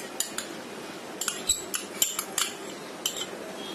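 A utensil stirs a mayonnaise mix with mustard sauce, sugar and lemon juice in a bowl, giving a string of sharp, irregular metallic clinks against the side, close and alone.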